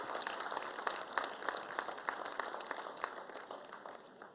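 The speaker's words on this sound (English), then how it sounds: "I still ask you to give him that rousing round of applause" An audience at a national honours ceremony gives sustained applause, a faint, even patter of many hands clapping throughout.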